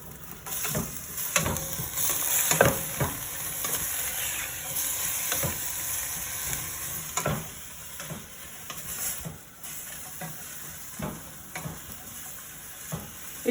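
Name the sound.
celery and onions stir-frying in pan for chow mein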